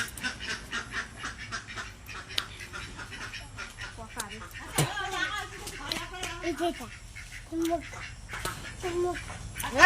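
Ducks quacking in alarm while people catch them, a run of sharp, fairly close calls mixed with scuffling and talk.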